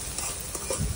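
Rice is stirred inside a rice cooker during a creamy mushroom and herb rice recipe, a brief soft scraping and shuffling close up with no one speaking.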